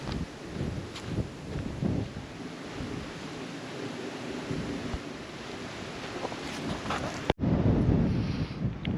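Strong wind buffets a clifftop on a hiking trail at the Chantemerle-lès-Grignan cliffs, a continuous loud rushing roar with gusty thumps against the microphone.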